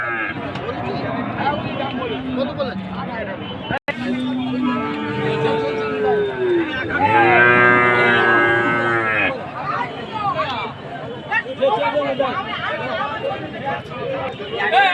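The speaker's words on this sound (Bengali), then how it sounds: "হাটে বাছুর তো আছে দেখতে পাচ্ছ সমস্ত রকমের হাটে বাছুর আছে" Cattle and calves at a busy village livestock market, with loud nearby moos rising over the steady chatter of a crowd and people talking close by.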